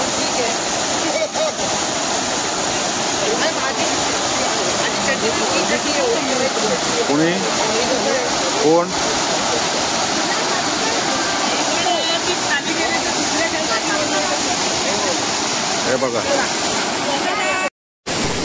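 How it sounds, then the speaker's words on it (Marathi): Savatkada waterfall near Rajapur, fed by a river, gives a loud, continuous close-up rush of churning water and splashing, while a person speaks briefly over the steady roar. "तेव्हा मंडळी हा होता सवतकडा हा धबधबा."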